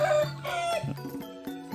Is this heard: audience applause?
no